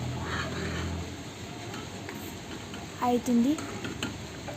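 A halwa mixture is stirred in a pan over low heat with a soft, continuous scraping and faint sizzle, and a short vocal sound breaks in briefly near the end.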